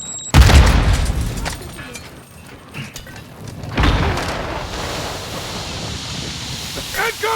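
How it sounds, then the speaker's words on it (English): A Semtex grenade explodes in Call of Duty Modern Warfare 2 with a loud, deep boom near the start. A second heavier blast follows a few seconds later amid ongoing gunfire and battle noise, with squad voices calling out over it. "Throwing Semtex."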